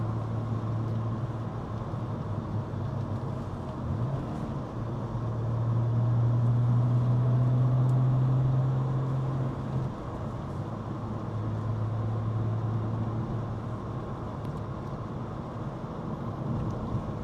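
A 1998 Porsche 911 Carrera 2S with the motor sound package drives on the road, its flat-six engine giving a steady mid-level drone with road and wind noise, swelling for a few seconds as revs rise.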